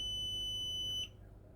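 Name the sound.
multimeter continuity mode beep testing a fuse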